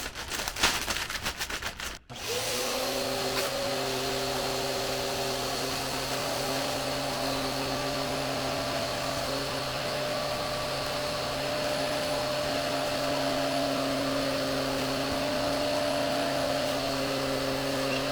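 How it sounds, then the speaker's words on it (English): A vacuum sealer pumps air from a bag of products, starting with a few clicks and rustles, then running as a steady, droning motor hum with a tonal whine that holds for a long stretch. "I wouldn't mind vacuum sealing them."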